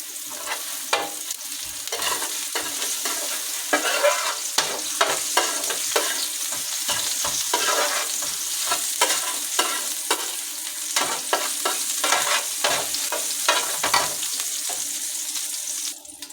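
Beef fat fries in oil, a steady bright sizzle running throughout, punctuated by frequent sharp clinks and scrapes of a utensil against the pan at close range, with no speech.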